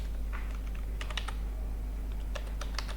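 Short bursts of clicking keys on a computer keyboard as a name is typed, close and moderately loud over a constant low hum, with no voices.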